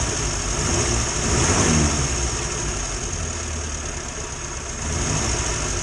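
Engine of a 1962 Morris Minor idles roughly with a coil fault, running steady but lumpy and uneven with repeated misfires, loud and close, with no talking over it.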